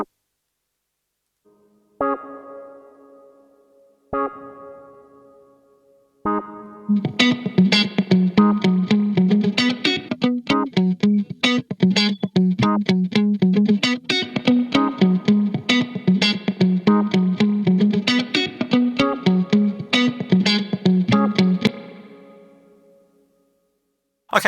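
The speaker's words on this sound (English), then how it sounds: "I'm using it to add some reverb to a Rhodes type organ." A Rhodes-type organ is played through a UAD BX20 AKG spring reverb plugin, starting with a few sparse held chords and then moving into dense, rhythmic playing whose notes ring out with a metallic spring tail before a final decay.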